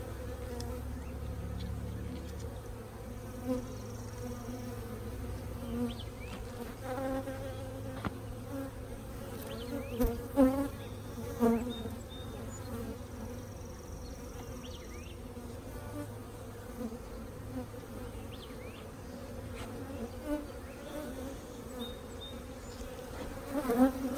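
A colony of honeybees hums in a steady drone during a nucleus hive install outdoors, with occasional louder passes of individual bees flying close and faint handling noises, no speech.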